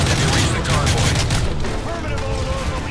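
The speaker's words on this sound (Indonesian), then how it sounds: "Ada yang pakai RPG guys" Dense gunfire and explosive blasts in the shooter game Call of Duty: Modern Warfare 3, a rocket-propelled grenade among them, rumbling loud and continuous with heavy low-end booms throughout.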